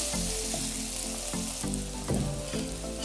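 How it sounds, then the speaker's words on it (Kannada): Chopped tomatoes and Malabar spinach (basale soppu) frying in a pan for sambar, giving a loud, steady sizzle with a few brief stirring scrapes and no talking. "ಟೊಮೆಟೊ ಸ್ವಲ್ಪ ಫ್ರೈ ಆದ ನಂತರ ನಾನು ಬಸಳೆ ಸೊಪ್ಪು ಹಾಕ್ತಾ ಇದ್ದೀನಿ."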